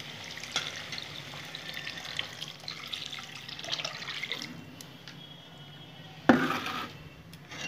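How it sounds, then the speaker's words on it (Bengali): Water streams into a cooking pan for a Bengali chitol fish kaliya gravy, a continuous splashing rush lasting several seconds, followed by a brief clatter of the pan or utensil. "এখন আমি গ্রেভির জন্য জল দেবো।"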